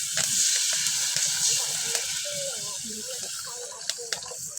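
Water poured onto spices sizzling in a pan for a bottle gourd and prawn dish, giving a loud hiss and bubbling burst at first that softens into quieter simmering, with a few clicks and faint voices.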